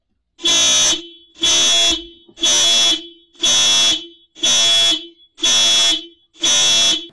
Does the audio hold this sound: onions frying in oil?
no